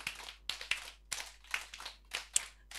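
Children at a kindergarten session clap together in counted groups, sharp, close hand claps falling in short clusters separated by brief pauses, loud and distinct against a quiet room.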